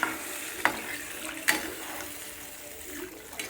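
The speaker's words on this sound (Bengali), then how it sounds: "এই যে এখানে উষ্ণ গরম জল আছে, এখানে ঝোলের মধ্যে দেবো।" Warm water goes into a pan of frying potato curry gravy for a Bengali bhetki fish curry, giving a continuous close hiss and bubbling with a few sharp splashy bursts, and no speech.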